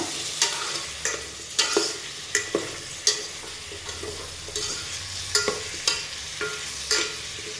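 Spoon stirring tamarind curry powder into a dried-fish curry masala in a pan, with repeated sharp scraping clicks at a steady uneven rhythm over a soft sizzle, close and fairly quiet, no voices.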